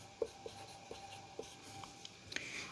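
Writing on a board during a chemistry lesson on balancing equations: faint, quiet scratching strokes in short bursts with small taps, no voice over it.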